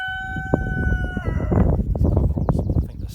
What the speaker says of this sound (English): These cockerels, I think they're psychic because they know when I'm about to finish.